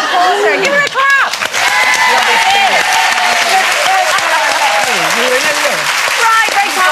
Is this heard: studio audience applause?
yes